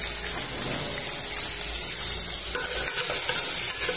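Vegetables sizzle steadily in a pan for ginisang monggo, with a continuous hiss of frying and a few soft stirring sounds, up close and without talk.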